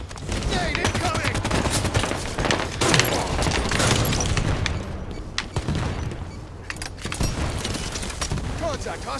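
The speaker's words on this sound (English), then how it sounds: "Grenade incoming." A grenade explodes amid a firefight in Halo 5: Guardians, a booming blast among rapid bursts of machine-gun and rifle fire, with game announcer voices calling out over the chaotic, loud exchange.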